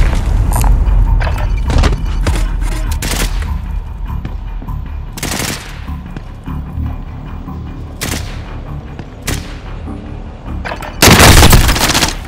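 Gunfire across Rebirth Island in Call of Duty Warzone, with scattered sharp shots and several loud bursts, one heavy burst near the end, and no talk.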